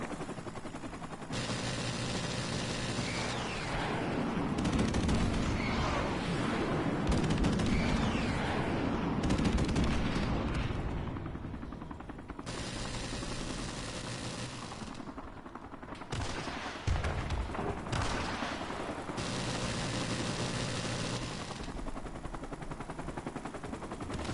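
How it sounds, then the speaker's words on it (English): Video game battle with a friendly airstrike and dense gunfire, heard as sustained loud bursts of automatic fire and heavy blasts that stop and restart in sections across the clip, alone without talk. "Friendly airstrike on the way."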